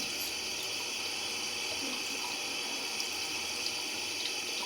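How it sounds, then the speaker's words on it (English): Tap water runs in a steady, full gush over a mochi squishy toy being rinsed, with faint splashes and dribbling, close by and unbroken, no one talking. "Let's just give it a nice rinse."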